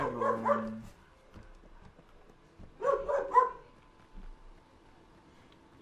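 Dogs bark in the Watch Dogs 2 video game, two separate bursts of a few sharp barks with a short whimper, fairly close, each burst followed by quiet.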